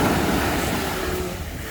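Sea waves wash onto the beach at Rayong, a loud, steady rushing surf close by with some wind buffeting the microphone, briefly and without any speech.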